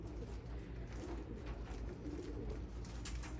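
Racing pigeons coo softly and repeatedly in a low, murmuring chorus, close by, with no speech.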